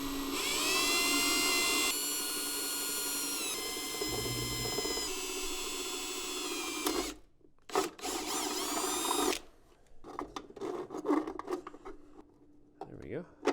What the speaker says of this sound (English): whenever I'm drilling through plastic, I'm really more melting through it than I am drilling.